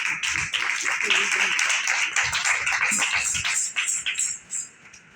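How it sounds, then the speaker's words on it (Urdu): Audience applause breaks out in praise of a rescuer, a dense, steady wash of clapping that holds for several seconds and then thins out and fades near the end. "اس کھینچنے والے کے لیے زوردار تالیاں بجائیے"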